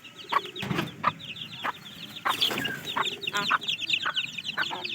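Chickens cluck and squawk close by in a yard, with repeated short bursts and a few louder flurries of cackling against a low outdoor background.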